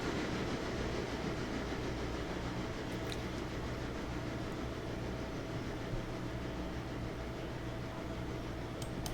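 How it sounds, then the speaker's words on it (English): A locomotive in the game Railroader labours up a grade hauling a heavy string of freight cars, a steady dense mechanical rumble with faint wheel clatter running throughout, no one speaking. "this is actually a climb here that this locomotive does not like with this weight"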